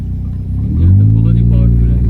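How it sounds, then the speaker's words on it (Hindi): A powerful engine in a small car runs with a loud, steady low rumble that swells and settles into a strong drone as the revs rise, with people talking over it. "इंजन तो बहुत ही पावरफुल है, बहुत पावरफुल इंजन है।"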